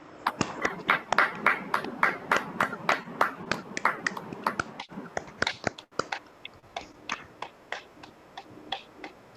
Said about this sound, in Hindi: आज के इस सुंदर ध्यान की ऊर्जा को हम तालियों के द्वारा पूरे ब्रह्मांड में फैलाएंगे।